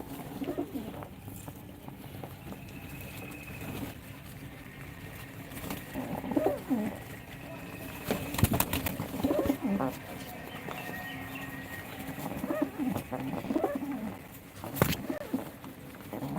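A pet Rajshahi Giribaz pigeon coos softly in low, repeated murmurs close by, with light patter and rustling, while a person talks over it.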